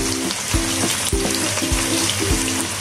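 Ginger paste and garlic paste frying in a pan for Puran Dhaka beef biryani, a steady close sizzle with periodic scraping knocks as a spatula stirs.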